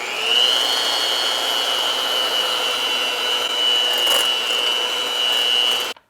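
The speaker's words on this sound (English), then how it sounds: "you want to keep your beaters going, and you're going to slowly add the sweeteners" Electric hand mixer with beaters whipping egg whites, a steady high-pitched motor whir, loud and continuous for several seconds before cutting off abruptly at the end.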